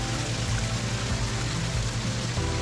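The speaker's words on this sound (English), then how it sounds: "they've got this waterfall area with some koi." Continuous splashing and pouring of a small courtyard waterfall with a koi pond nearby, a dense steady rush with low gurgling underneath.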